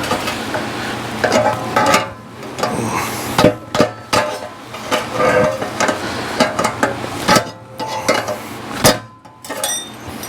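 Claw hammer striking metal in a fab shop while working on a Coyote Mustang custom exhaust, a series of irregular sharp clanks and taps with scraping between, close and fairly loud.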